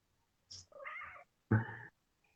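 A cat meows up close, a brief high squeak followed by two drawn-out, wavering meows, the last one louder and lower, with quiet moments in between and no talking.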